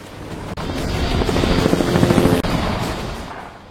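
A helicopter's rotor chops rhythmically, swelling louder as it nears and then fading slightly, with no talking.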